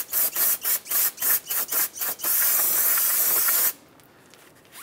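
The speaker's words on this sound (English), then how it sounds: "I'm gonna hit it with some brake clean and get rid of the greases" Brake cleaner hisses from an aerosol can onto the wheel hub of a 2007-2015 Mazda CX-9, first in about ten short rhythmic bursts, then one long continuous spray, close and fairly loud.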